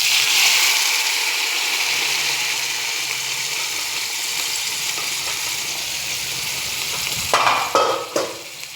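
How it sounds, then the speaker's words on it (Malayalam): Cooked cowpeas stir-fried with onions and chilli in a pan give a steady, close hissing sizzle, ending with a few clattering stirs. "ഇതിലേക്കിനി വേവിച്ച് വെച്ച പയറിടാം."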